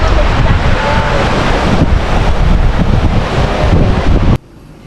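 Strong wind buffets the microphone over rolling surf at Chao Lao and Thorsaeng beach in Chanthaburi, a loud, steady roar that cuts off abruptly near the end.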